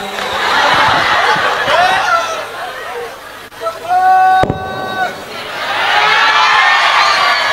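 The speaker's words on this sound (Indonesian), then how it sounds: "Tepuk tangan untuk Abah Miftah." Crowd applause and cheering for Abah Miftah at a religious gathering, dense and sustained with chatter and laughter mixed in; it thins briefly mid-clip where a voice and a sharp bang cut through, then swells again.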